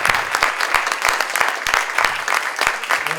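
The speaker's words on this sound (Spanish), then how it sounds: "Les pido un aplauso para él." An audience at a lecture in Mexico applauds a speaker, giving steady, dense hand-clapping that stays loud and even throughout with a few sharper individual claps standing out.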